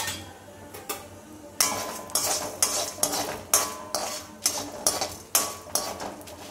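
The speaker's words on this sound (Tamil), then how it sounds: "நெய் ஊற்றிட்டு இந்த சாமான்லாம் வறுத்துக்கலாம்." Spices and toor dal being roasted in ghee in a pan for traditional mango-seed rasam: a spoon scrapes and stirs in repeated rhythmic strokes, about a dozen, close up over a soft sizzle.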